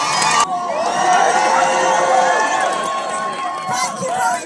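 A large crowd at a Palestine march in Hyde Park, London, cheers and whoops continuously, a dense roar of many voices with shouts rising above it.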